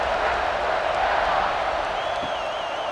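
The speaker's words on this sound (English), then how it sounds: "you think this crowd's going to get loud when their defense comes on the field?" Stadium crowd roar in the College Football 26 video game, a dense continuous wash of cheering at a college football game, steady and loud throughout with a faint whistle-like tone near the end.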